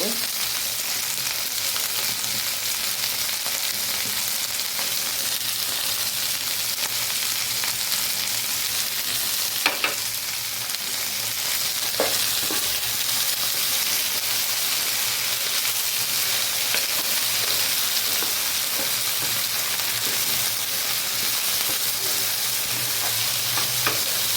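Okra frying in a pan with turmeric gives a steady, close sizzle that holds throughout, broken by a few scattered scrapes and stirs with no talking.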